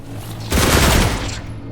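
A sustained burst of gunfire in The Last Caretaker video game starts abruptly, a dense rattling volley that holds loud for about a second, then trails off.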